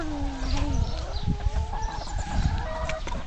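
Farmyard chickens cluck and squawk continuously at close range, several birds overlapping in a busy, steady chatter with no talk.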